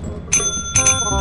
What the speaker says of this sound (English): Spam this bell. Just spam this bell.